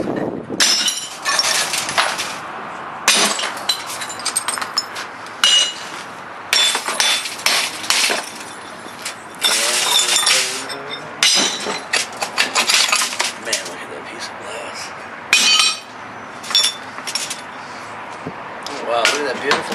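Glass tube of a CRT television breaking while being dismantled, repeated bursts of crunching, clinking and cracking glass with scattered impacts, near and loud, while someone talks between them.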